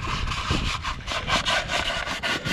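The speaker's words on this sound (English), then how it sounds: "next I'm gonna hit the spindle with a little bit of sandpaper just to clean some of this grime off here." Very fine sandpaper rubs grime off a trailer wheel spindle in quick, rhythmic back-and-forth strokes, close and fairly loud.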